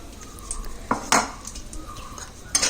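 Gravy being added to a pot of melted ghee for Malabari chicken dum biryani, with spoon and pot clanks, a couple of sharper metallic knocks, and a faint sizzle underneath, close by.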